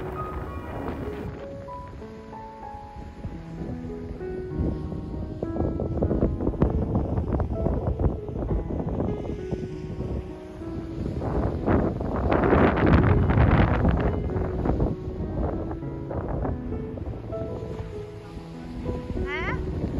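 Wind gusts roar across the microphone on a red-sand beach, a steady rough rumble that swells and eases over twenty seconds, with waves and faint background noise mixed in.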